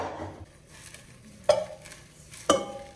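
Oats sizzle softly in a pan while a spoon scrapes and stirs, with two sharper knocks of the utensil against the pan rim standing out from the quiet frying.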